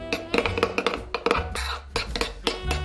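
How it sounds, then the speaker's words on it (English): Ginger powder and orange zest are stirred into a vegan chocolate truffle mixture, giving a string of close, irregular clinks and scrapes of a utensil against a bowl, quiet and uneven in rhythm. "mix, mix, mix until it's all combined"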